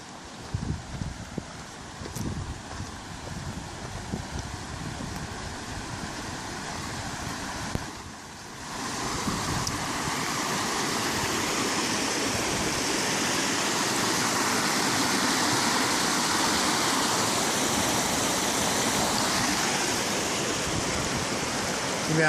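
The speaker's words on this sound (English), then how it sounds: "You can hear this creek a long ways away." A creek near Crater Lake on the Pacific Crest Trail rushes loudly in a broad, steady roar, quieter and broken at first, then swelling into a constant full wash of water.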